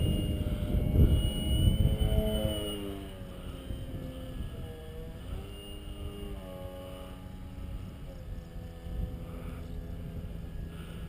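A model airplane flies with a steady engine drone whose pitch rises and falls as it passes and climbs, loudest at first, then holding a moderate level with wind noise on the microphone.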